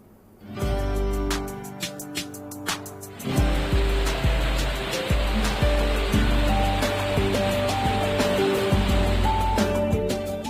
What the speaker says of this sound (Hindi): पहाड़ियों से गिरता पानी का झरना लोगों को आकर्षित कर रहा है।